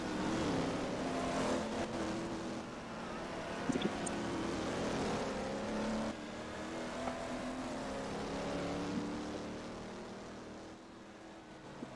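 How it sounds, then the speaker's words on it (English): Porsche race cars at the 2023 IMRP Patriot GP passing on the track, with a steady engine roar that rises and falls as cars go by at a moderate distance and wind noise mixed in. "Nitro Tech is in danger now as T7 Jake is starting to reel in the back of the Nitro Tech Porsche"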